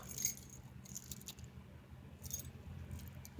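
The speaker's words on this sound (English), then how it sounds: "And here's my keys." A bunch of keys with a tag clinks and jingles faintly in short metallic bursts near the start and again toward the end, handled up close against quiet background noise.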